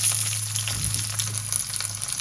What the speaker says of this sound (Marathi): जिरं छान फुललं की आपण लसूण घालूया आणि हा कांदा फोडणीला घालूया.